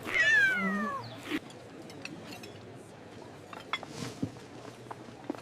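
A cat gives one clear, drawn-out meow at the start, close and fairly loud, followed by quiet room ambience with faint light clinks of dishes or cutlery.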